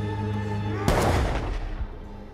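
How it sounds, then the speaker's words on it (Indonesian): A single loud gunshot cracks out in an action film scene, a sharp burst followed by a brief rumbling decay over low background sound. "ternyata itu adalah tembakan dari Billy."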